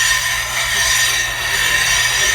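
A blade is rubbed back and forth on a diamond resin plate with abrasive, giving a continuous close, gritty scraping hiss that swells and eases with each stroke, with no talking.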